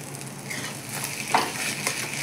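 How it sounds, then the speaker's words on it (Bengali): Spice masala sautéing in oil over a low gas flame, a soft steady sizzle with a couple of light stirring scrapes, close and fairly quiet. "আমি একদম গ্যাসটা একদমই লো করে দিয়ে এরকম ধিমে আছে এটাকে কষিয়ে নিলাম"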